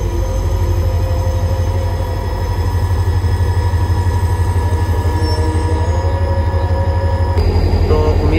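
A train rolls through Malir Railway Station with a loud, continuous rumble and rhythmic wheel clatter that keeps up for several seconds, brightening slightly near the end.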